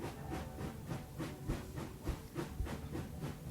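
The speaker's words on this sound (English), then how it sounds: "The train passes Reims." Train bound for Germany rolling past Reims, its faint rhythmic clatter of wheels over rail joints repeating in regular beats along with a soft hiss.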